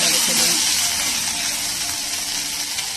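Pirandai thokku sautéing with salt in a pan gives a steady, loud hiss and sizzle that runs without a break throughout.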